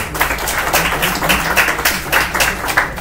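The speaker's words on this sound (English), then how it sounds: "Ladies and gentlemen, a huge round of applause for all of us." Loud, sustained applause from an audience at the grand finale of a hackathon in Bangalore, with dense clapping and rhythmic swells running the whole time.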